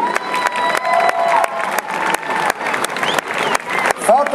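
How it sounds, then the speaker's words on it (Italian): Applause and cheering from an audience at a rugby club season presentation in San Donà, honoring the youngest players, with sharp claps and whoops mixed with voices and a few whistles, fairly close and lively. "Un applauso ai più piccoli."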